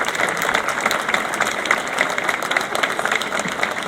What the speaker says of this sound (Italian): E un applauso, giustamente un applauso.